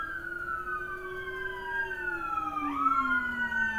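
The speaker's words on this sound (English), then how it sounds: "Thanks, fire engine." A fire engine siren wails outside a window, its rising and falling tones swelling gradually louder as the truck draws closer, continuous and steady with no voices over it.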